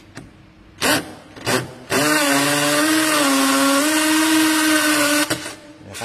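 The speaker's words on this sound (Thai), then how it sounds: "เดี๋ยวผมทดสอบลองเจาะปูนดูนะ ครับเจาะฝาผนังบ้านดูนะฮะ" A 48-volt cordless hammer drill bores into a concrete house wall, with two short trigger bursts followed by a loud, sustained whining, hammering drone for about three seconds, then a brief final burst.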